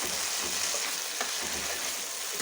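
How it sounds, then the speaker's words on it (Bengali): Spice masala frying on medium-low heat in a pan for a spinach and paneer dish, a continuous close hiss of sizzling with faint stirring scrapes and no speech. "আমি এখানে মিডিয়াম টু লোতে করে রেখে মশলাটা কষিয়ে নিচ্ছি।"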